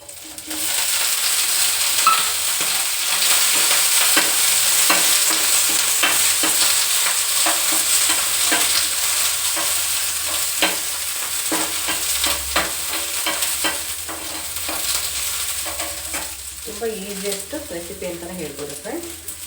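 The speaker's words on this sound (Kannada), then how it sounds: "ಸಾಸಿವೆ ಸಿಡಿತಾ ಇದೆ ಈಗ ನೆಕ್ಸ್ಟು ನಾನು ಕರಿಬೇವು ಮತ್ತು ಹಸಿಮೆಣಸಿಕಾಯಿನ ತೊಗೊಂಡಿದ್ದೀನಿ ಸೊ ಇದನ್ನೆಲ್ಲ ಸೇರಿಸ್ಕೊಳ್ತಾ ಇದ್ದೀನಿ" Curry leaves and green chillies frying in hot oil with mustard seeds for a mushroom pepper dry, a steady loud sizzle with crackling pops and occasional stirring scrapes throughout.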